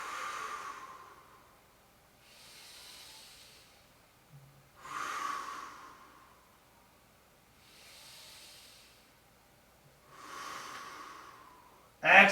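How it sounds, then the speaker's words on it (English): Slow, deep breaths during a downward dog hold in a bodyweight workout, about five soft airy inhales and exhales spaced evenly, close and fairly quiet, with a brief sharper sound at the very end. "3 good breaths."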